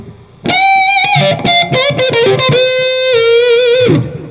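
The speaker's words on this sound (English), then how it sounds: "all the way out, it makes it sort of like muddy sounding." Electric guitar with the tone knob rolled all the way out, through a wah setup, giving a muddy, nasal tone; a loud, close run of picked notes and bends with a long sustained note near the end.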